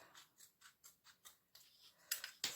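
Scissors make a series of small crisp snips at a steady pace while cutting a paper piece for a Halloween lollipop craft, quiet and close, ending with a few sharper cuts.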